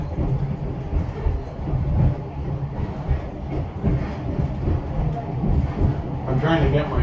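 A passenger train rolls through the Elgin County countryside with a continuous rumble and faint clatter of the cars. People talk over the steady ride noise throughout.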